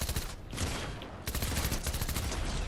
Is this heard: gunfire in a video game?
yes